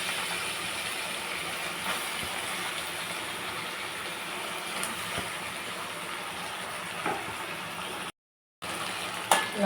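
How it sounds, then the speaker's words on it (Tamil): Chicken pieces sautéing in a pan with softened onion and tomato for a Tamil chicken kulambu, giving a steady close sizzle and hiss throughout with one brief cut to silence near the end. "கழுவி வச்சு சிக்கன் ஆட் பண்ணிக்கலாம்."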